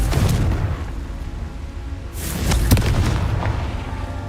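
Spell-blast explosions from Hogwarts Legacy gameplay, a deep booming rumble swelling midway with a sharp burst, loud and continuous with no talk.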